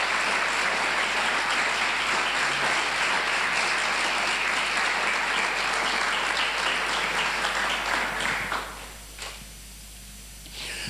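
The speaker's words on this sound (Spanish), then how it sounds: "Denle una ofrenda de aplauso." Congregation in a church applauding, a dense sustained wash of many hands clapping that fills the room, then tapers and stops abruptly near the end.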